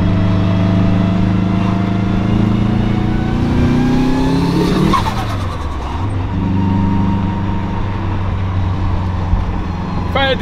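A Subaru STI engine pulls hard through the gears on a ride along, loud and near, with revs climbing, a shift around the midpoint and then a steadier, slightly quieter drone.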